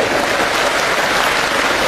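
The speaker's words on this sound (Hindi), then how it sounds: "जोरदार तालियों के साथ इनका स्वागत करें।" A town hall audience in Prayagraj applauds to welcome a speaker with dense, loud, continuous clapping that fills the whole short moment.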